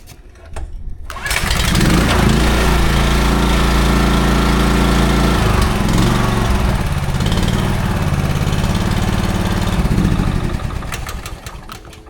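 A Honda HSS1332 snow blower engine starts and runs at a steady loud idle for about ten seconds, close and continuous, then begins to wind down near the end.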